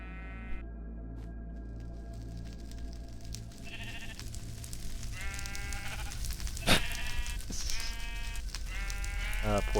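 Blocky sheep bleat several times in Minecraft Alpha over steady game ambience and crackling fire, clear and fairly close, with a low constant background hum.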